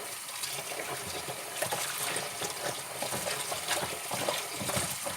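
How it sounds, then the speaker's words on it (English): Celeriac being washed and scrubbed by hand under a running tap, a steady splashing water stream with irregular rubbing and sloshing throughout, close and moderately loud, no voices. "Each time you wash it like so, give it a good scrub and wash it"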